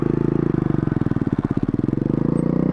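A mini moto motorcycle engine revs hard during a wheelie, a loud, close, rapid throbbing buzz that pulses steadily and surges in the middle before easing off, with no talking.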